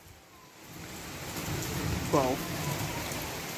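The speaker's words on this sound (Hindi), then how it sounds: "धड़ाधड़ झमाझम बारिश हो रही है" Heavy monsoon rain in India pours down as a steady, dense hiss throughout, with a person giving a short exclamation partway through.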